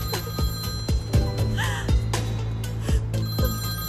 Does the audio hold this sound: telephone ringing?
yes